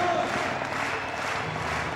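Show jumping crowd at the Grand Prix Longines of La Baule cheering and applauding a winning rider, a steady dense roar of many voices and clapping throughout, fairly distant and even.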